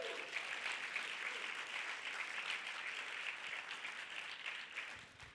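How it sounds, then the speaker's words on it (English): Conference audience at a Hawaii event applauding, a dense sustained wash of clapping from a large crowd, steady and fairly distant, tapering slightly at the end. "Give yourself a round of applause for being in this room here today and yesterday."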